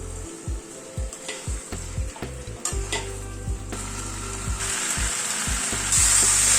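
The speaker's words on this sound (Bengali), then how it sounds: "আলুটাকে দিয়ে আরো 1-2 মিনিট একটু নাড়াচাড়া করে নিলাম।" Boiled potatoes stirred and fried in a pan with chicken for a Gandharaj chicken curry: repeated scraping strokes of a spatula over a steady sizzle that grows louder and brighter toward the end, with no talking.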